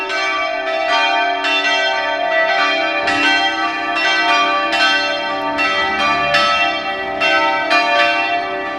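Church bells peal steadily from a tower in Vilnius Old Town, overlapping strokes ringing continuously with a rich, resonant tone and no voices.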